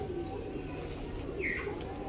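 Domestic pigeons kept by a fancier, including red birds, coo softly with low, rounded calls under steady background hiss, with a brief brighter chirp near the end.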